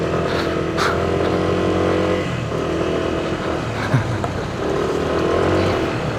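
A Yamaha NMAX V3 scooter riding and overtaking on a road, its engine droning steadily and loudly with some wind noise and a few minor bumps.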